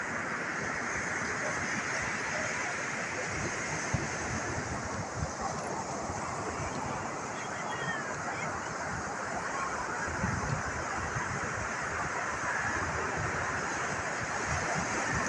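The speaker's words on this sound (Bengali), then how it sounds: "সমুদ্রের ঢেউয়ের জল।" Sea waves wash onto the beach at Digha, a steady, loud roar of surf and wind that fills the whole stretch without pause.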